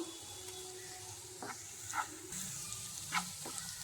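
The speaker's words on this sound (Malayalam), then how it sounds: "കുറച്ച് സമയം ഒന്ന് വഴറ്റി കൊടുക്കാം" Food sautés in a pan while salt is stirred through it, giving a soft continuous sizzle broken by several sharp scrapes and taps of the spoon against the pan, with no talking.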